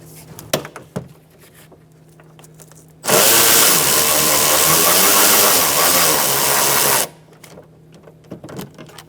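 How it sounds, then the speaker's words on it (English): A power driver with a 10mm socket and extension loosens a window regulator bolt inside the door of a 2007-2017 Ford Expedition: a loud, steady whir lasting about four seconds, with quiet tool clicks and handling before and after. "Now we're going to loosen up this bolt. And also the one on the other side. I'm using a 10mm socket to do that"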